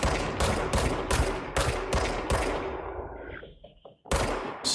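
An enemy in the video game Control fires at the player: a loud, evenly spaced string of about eight gunshots, then a short lull and one more shot.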